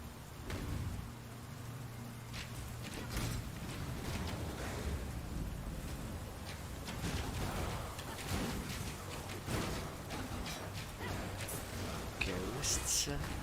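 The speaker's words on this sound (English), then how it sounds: "Let's play in the rain." Steady rain at the docks in the Path of Exile video game, a dense, continuous hiss mixed with wind-like noise and low rumbling, with occasional sharper spatters and game sounds throughout.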